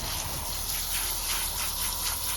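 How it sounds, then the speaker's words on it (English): Running water gushes steadily with a hissing spray, close and continuous, rinsing mud and dirt off metal-detecting finds from a riverbank. "Wanted to give this a quick rinsing, even though it's mostly clean"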